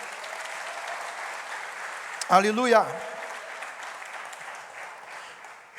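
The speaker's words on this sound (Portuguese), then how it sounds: "Dê um aplauso aí, irmãos, bem forte." Congregation applauding strongly in church, sustained clapping throughout with one voice calling out briefly in the middle.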